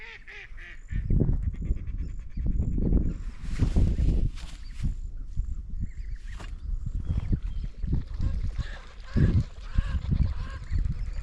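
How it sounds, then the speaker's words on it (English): Several ducks call nearby on the coast in a loose series of nasal honks and quacks, some overlapping, with low rumbling noise in between. "The ducks are on to me."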